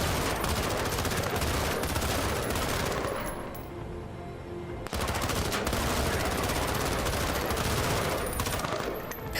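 Sustained gunfire rattles through a firefight in the tactical video game Menace, loud and dense rapid shots that briefly thin out midway before the barrage resumes at full intensity.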